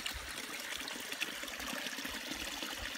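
Spring water on a Pacific Crest Trail hike, a thin steady trickle and splash from a small spout, close and continuous with no talking.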